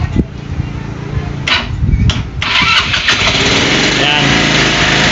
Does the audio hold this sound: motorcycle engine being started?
yes